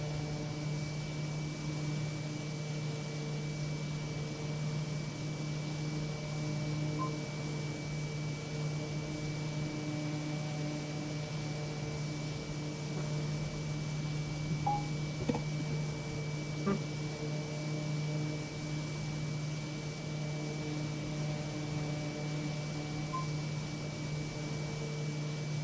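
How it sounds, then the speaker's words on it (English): Steady droning hum of a twin-engine Cessna 310 cruising in a flight simulator game, a constant engine tone with faint occasional clicks, moderately quiet and alone. "So we have ROML 9 flying in the Cessna 310."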